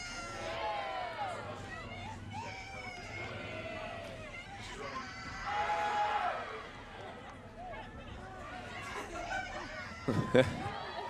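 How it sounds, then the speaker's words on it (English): Soccer crowd at a men's college championship semifinal between UCF and UConn, a steady murmur of chatter and scattered shouts building into a louder swell midway, with a sharp burst of noise near the end. "Crowd trying to get energized here."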